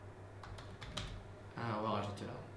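Computer keyboard typing while entering a commit message for a continuous deployment setup on Amazon Web Services: a few soft scattered taps, then a quicker denser burst of keystrokes, close up and fairly quiet under a low steady hum.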